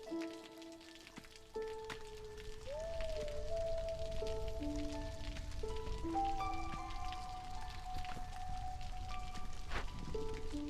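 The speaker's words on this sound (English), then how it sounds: "We might have to turn off our rain engine." Rain ambience from the Against the Storm video game: a steady, soft hiss of falling rain runs the whole time beneath sustained game-music tones, rising slightly in level after the first couple of seconds.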